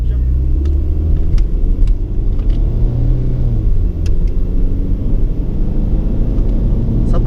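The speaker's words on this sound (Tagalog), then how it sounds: "driving the Camry" A 2007 Toyota Camry driving along, a loud steady low road rumble and engine drone from inside the cabin, with people talking over it.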